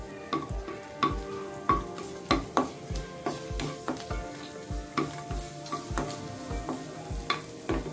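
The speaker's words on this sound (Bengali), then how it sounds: "এখন আমি দিয়ে দিব রসুন কুচি। রসুনটা একটু লাল হওয়া পর্যন্ত আমি অপেক্ষা করব।" Chopped garlic sizzles in hot oil in a pan for okra fry, a steady frying hiss broken by regular sharp scrapes and taps of a stirring spoon, close and fairly loud with no voices.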